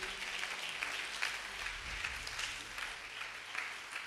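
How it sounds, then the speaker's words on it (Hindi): Applause for Jesus from a church congregation, a steady wash of many hands clapping, fairly faint and distant-sounding, continuing evenly for about four seconds. "जोरदार ताली यीशु के लिए"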